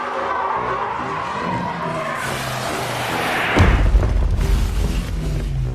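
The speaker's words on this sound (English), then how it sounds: "No drivers nearby, no racing, just the safety car crashing." A Formula 1 safety car's tires screech in a long skid, then a heavy crashing impact lands with a loud boom and rumbling debris afterward.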